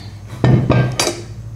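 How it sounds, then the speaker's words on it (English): Heavy metal clanks and thuds as a cast iron Dutch oven and lid are handled, two or three solid knocks close by, with a faint ring after. "First, the classic Dutch oven."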